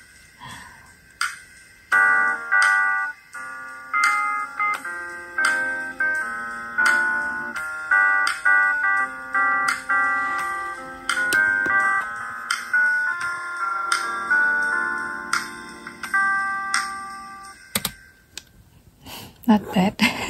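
A folding piano keyboard plays a melodic tune with distinct struck notes and chords in a steady rhythm, close and clear, pausing briefly near the end before a few more notes.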